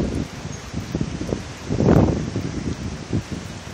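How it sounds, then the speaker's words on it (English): A gust of wind from a winter storm roars up and swells loudly around the middle, then eases back into a steady blustery rush with rustling. "Here comes a big gust."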